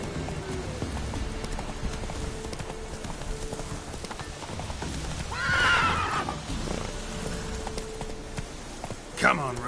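A horse in The Witcher 3 clip-clops steadily at a walk, then gives a rising neigh midway and a short whinny near the end, with a voice speaking over the hoofbeats.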